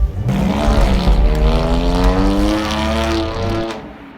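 A BMW Z4 convertible sports car drives along a road in India, its engine holding a steady, close drone with a gentle rise and fall in pitch throughout, and no talking.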